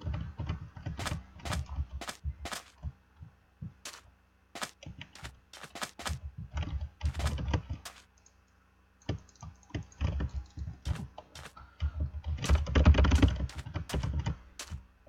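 A computer keyboard clatters with rapid, close bursts of keystrokes that pause briefly midway, then resume with a dense flurry of typing.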